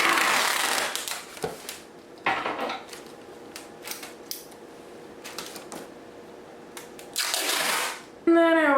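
Packing tape is pulled and pressed down to fix a small thank-you note inside a shipping box flap, with short crackling rips and rustles between quieter pauses.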